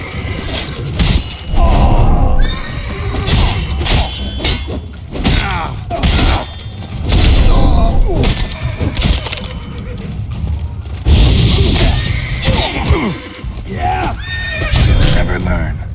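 Horses whinny and snort amid a fight scene in The Witcher 3: Blood and Wine, loud and close, mixed with clashing impacts, hoof clatter and shouting voices.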